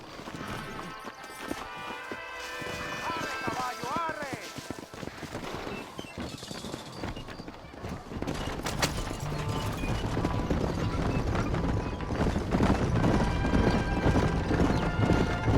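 Hooves clip-clop in a rapid, steady gallop in Red Dead Redemption, growing louder and denser, mixed with game music and a brief whinny.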